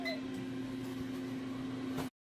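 A steady low microwave hum drones on without change, then cuts off abruptly near the end.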